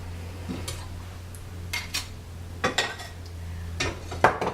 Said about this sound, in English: I'm gonna use a garlic press